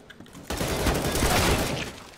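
Dense, continuous bursts of game gunfire crackle loudly for about two seconds after a brief quiet start, like rapid automatic weapons firing.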